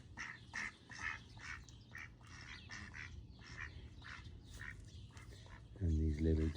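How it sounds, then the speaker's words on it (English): Ducks in a garden in Brazil quack repeatedly in short nasal bursts close by, steady and fairly loud, while a person talks nearby near the end. "And these little duckies."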